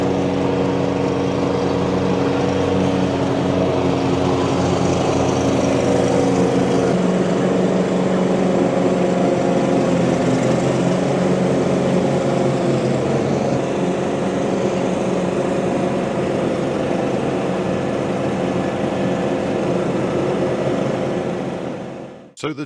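A John Deere Z315E zero-turn petrol mower cuts grass with a steady, loud engine drone that holds level and close throughout, then cuts off abruptly at the end.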